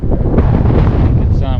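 Strong wind buffeting a microphone on a hilltop along the Redinga range, a dense continuous roar with low rumbling gusts throughout, loud and close.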